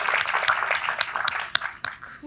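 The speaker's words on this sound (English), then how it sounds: "And let's still clap for Irma too" A small group claps at an online art battle event, scattered uneven hand claps with a few sharp close ones, thinning out toward the end.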